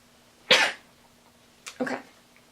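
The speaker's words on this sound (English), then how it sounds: "I gotta sneeze." A single sharp sneeze bursts out, then after a pause a second, smaller sneeze-like burst follows, close and loud against a quiet room.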